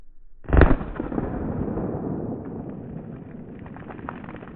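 A single sharp gunshot from an IWI Jericho 941 pistol cracks loudly up close at an outdoor shooting range, its echo rolling out and fading over several seconds of ambient noise.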